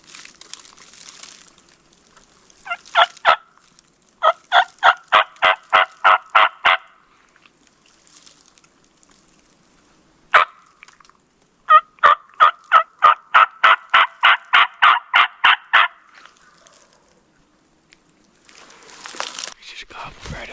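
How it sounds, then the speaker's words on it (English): A wild turkey on Kentucky public land gobbles in rapid rattling bursts, several gobble series in a row, fairly close and loud. Soft rustling fills the quiet between calls. "Just gobbled right over the road."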